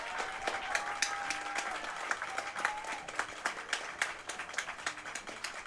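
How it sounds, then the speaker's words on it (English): A crowd of Oklahoma City Spark softball fans applauds in the stands, a steady wash of clapping at moderate distance that rises and falls over several seconds, with faint announcer-like tones in the background. "Nice round of applause from the Spark crowd."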